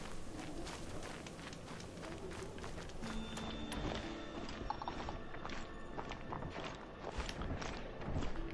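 A horse's hooves clip-clop in the video game Horizon Zero Dawn, a quick irregular patter of steps amid faint mechanical game sounds, with no talking.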